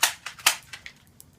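Airsoft gun firing pellets, heard as a quick run of sharp snapping pops close by, several shots in just over a second that grow fainter, with no talking.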